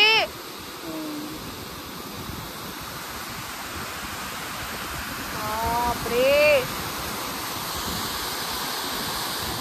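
Water rushes steadily through Terna dam at Dhoki, Dharashiv, swollen after heavy rain, making a loud, continuous broadband roar that fills the whole clip while voices speak and exclaim over it.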